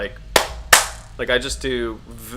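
Two sharp hand claps made underwater by a diver to get an instructor's attention, loud and distinct, followed by muffled voice-like sounds.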